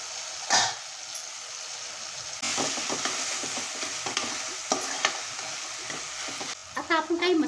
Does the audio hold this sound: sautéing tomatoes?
yes